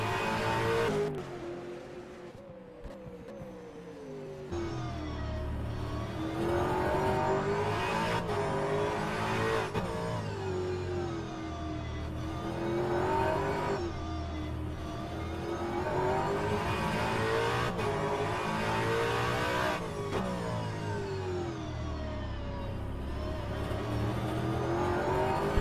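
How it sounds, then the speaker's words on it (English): A V8 Supercar engine in a sim racing game at the Gold Coast circuit rises and falls in pitch through repeated gear changes and corners, steady and fairly loud, with no talk. "You can hear the engine tone come around that corner"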